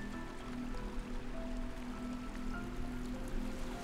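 A river flowing steadily in a video game, a continuous broadband wash with faint tonal hum underneath, moderately loud and unbroken throughout with no talk.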